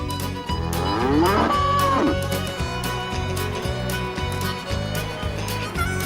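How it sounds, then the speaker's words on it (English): A cow on a working cattle ranch lets out a loud, drawn-out moo near the start, over a steady rhythmic background beat, then the lowing fades. "help herd cattle on a working ranch"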